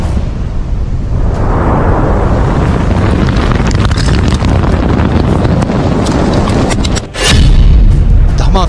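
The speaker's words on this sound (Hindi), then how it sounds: "धमाका नंबर 1" Missile explosion heard as a heavy, sustained roar of rumbling noise with wind-like buffeting, ending in a sharp crack and a deep low boom; loud and distorted.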